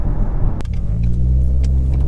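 A 2018 Ford Mustang S550 EcoBoost gives a steady low engine rumble from inside the cabin, with a sharp click near the start before the drone settles in.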